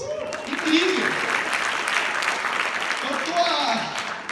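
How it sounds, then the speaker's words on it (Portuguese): An audience at a network-marketing talk gives a round of applause, steady clapping from a crowd, with voices and a speaker talking over it. "uma salva de palmas"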